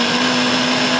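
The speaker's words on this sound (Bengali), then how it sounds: "দেখুন মিক্সিং জারেতে এটা ভালো করে পেস্ট করে নিচ্ছি" An electric mixer grinder whirs steadily at close range as it blends tomato, ginger, fennel and green chilli into a paste, a loud, unbroken motor drone with no voices.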